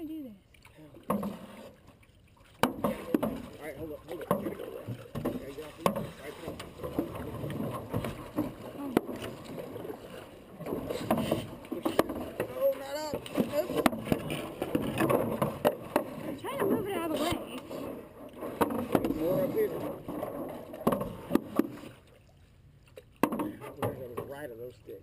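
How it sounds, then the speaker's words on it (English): A boat is paddled through a shallow cypress creek, with soft paddle strokes and water splashes running under near-constant conversation between the people aboard. "when you paddle there, bring the front end of the boat over to the right."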